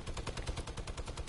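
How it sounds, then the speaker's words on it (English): Minigun in a video game firing a rapid, unbroken stream of shots, a dense rattling burst that sounds distant and fairly quiet. "That's the minigun."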